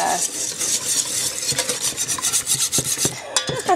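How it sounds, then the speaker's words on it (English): A beater works flour into broth in a bowl for a Parmesan chicken mushroom bake, giving close, busy rubbing and scraping strokes with a faint sizzle-like rasp and a few sharper knocks toward the end. "beater to mix in all the flour"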